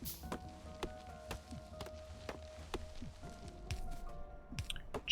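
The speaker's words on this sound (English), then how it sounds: "Just going to kind of chop our way through the forest here." Trees being chopped in a forest in the video game Factorio, heard as a series of sharp, evenly spaced chopping clicks over a soft, crunchy background texture, moderately close and with no voices.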